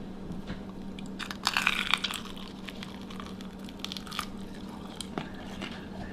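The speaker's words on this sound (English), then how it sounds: "You're gonna hear it crunch." Close, crisp crunching from a single bite into a fried chicken wing, followed by quieter scattered crackles of chewing.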